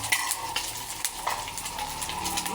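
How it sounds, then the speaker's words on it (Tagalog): Pork browns in melted margarine in a pan, giving a steady close sizzle and frying crackle with occasional stirring scrapes and light clinks, no talk. "Lagay tayo ng margarine. Ayan. So, nagbabrown na yung ating pork."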